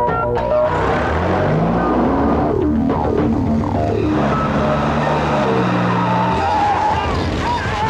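A car pulls away fast with a loud engine roar and screeching tires, staying close and intense throughout.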